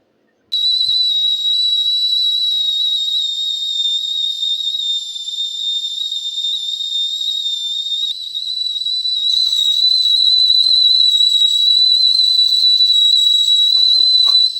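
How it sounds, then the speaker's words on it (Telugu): A milk boiler on a stove gives off a high, steady whistle, loud and unbroken from just after the start to the end, growing slightly stronger in the last few seconds. "ఇప్పుడు విజిల్ ఏ విధంగా వస్తుందో మీరే వినండి"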